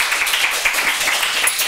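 A television studio audience on a Russian game show breaks into steady, dense applause, clapping loud and close throughout the brief moment without any voices on top.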